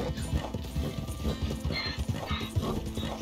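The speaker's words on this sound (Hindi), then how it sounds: "ज़ेब्रा है, नाटक कर रहा है गधे जैसा।" A zebra in Red Dead Redemption 2 trots with quick, dense hoofbeats and gives braying, donkey-like calls, loud and close with no talk over it.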